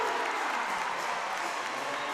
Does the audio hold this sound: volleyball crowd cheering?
yes